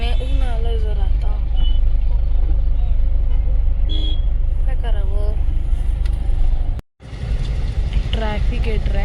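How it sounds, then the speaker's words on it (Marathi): Dense road traffic jam in Kashmir, cars, trucks and buses idling and creeping with an occasional horn toot, loud and continuous close by, with people talking over it and a brief dropout near the end. "ट्रॅफिक आहे, ट्रॅफिक जाम."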